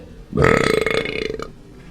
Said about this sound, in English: Don't use that burp in there.